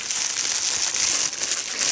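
Plastic packaging bag holding cocoa beans from an online order, crinkling and rustling steadily up close as it is handled and opened, with no talk.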